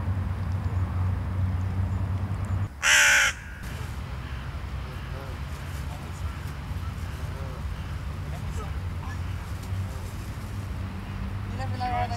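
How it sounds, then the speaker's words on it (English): A single loud crow caw rings out once against a quiet outdoor background with faint ambient noise. "Crows everywhere"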